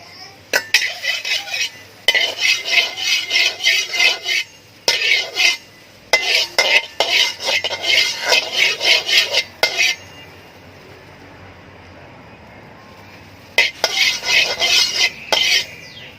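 Metal utensil scraping and stirring in a pan while preparing stir-fried cucumber with pork, close and fairly loud in repeated bursts with a quiet pause before the scraping resumes.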